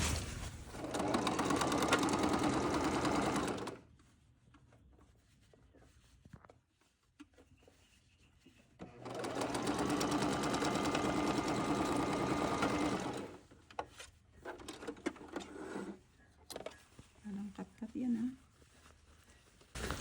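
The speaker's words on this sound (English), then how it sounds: "And then I'm going to do a French seam." Sewing machine stitching a French seam on table linen, running in two long steady bursts separated by a quiet pause, with softer handling noises and brief talk between.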